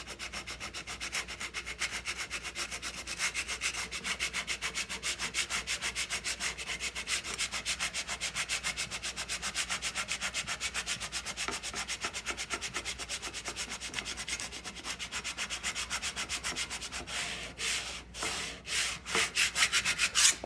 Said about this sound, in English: You're going to take your little scraper again and just kind of rub this out.